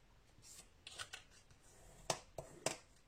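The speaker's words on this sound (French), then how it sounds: "Je marque bien ces plis." Paper folds are pressed and creased by hand for a scrapbook mini album, with a quiet series of sharp, brief rustling swipes, three crisper strokes standing out near the end in an otherwise hushed room.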